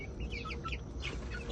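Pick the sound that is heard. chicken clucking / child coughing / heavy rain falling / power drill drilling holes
chicken clucking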